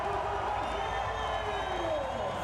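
A stadium crowd cheers in a loud, continuous roar at a men's beach volleyball semifinal at the Vitoria Open.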